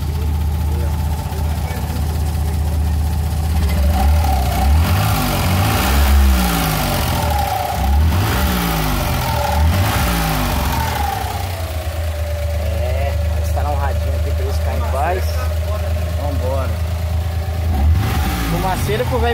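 A Ford Towner van engine running in first gear, a low steady idle rising into several swelling revs and easing back, close and loud, with someone talking over it at times.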